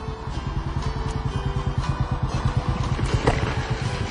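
A Royal Enfield Bullet motorcycle engine runs with a steady, fast thumping beat at moderate loudness, the single-cylinder pulses continuous with no voices.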